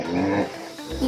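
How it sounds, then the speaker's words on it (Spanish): A hippopotamus gives a short, deep, rumbling grunt-roar, loud and close, lasting about a second. "Hipopótamo."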